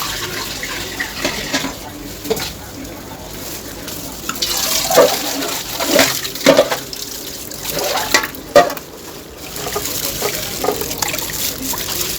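Running tap water used to rinse a fish, splashing and trickling close by with irregular spurts and handling noises as the gills are washed clean of sand.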